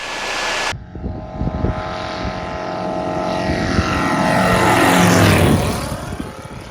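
A light aircraft makes a low pass over Matuwa Kurrara Kurrara National Park, its propeller engine droning louder as it sweeps close, peaking in a rising roar before the pitch drops and the sound begins to fade.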